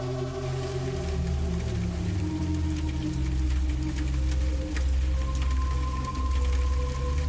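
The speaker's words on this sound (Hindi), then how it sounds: "इतनी चुप्पी थी कि बारिश की बूंदों की आवाज बहुत तेज लग रही थी।" Raindrops patter continuously for a horror animation, layered under a low, eerie sustained drone with shifting tones, steady and even throughout with no voices.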